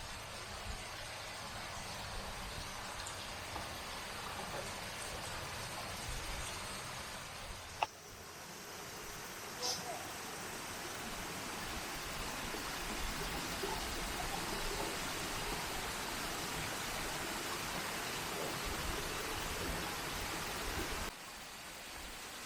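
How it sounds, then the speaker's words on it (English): A huge, massive waterfall near Scales Tarn in the Lake District in December, pouring down a long drop as a steady, broad roar of rushing water that holds constant throughout, with no voices over it. "because this one is a pretty epic waterfall."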